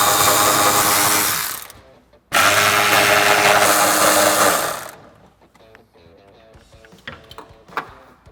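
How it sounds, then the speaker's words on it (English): A power tool whirs loudly in two long runs, broken by a short pause, as an 11mm socket drives out the taillight bolts on a 2005-2009 Mustang, then quieter clicks and handling noises follow; no one speaks. "I'm going to use an 11mm socket, and I'm going to unbolt the taillights and remove them from the vehicle."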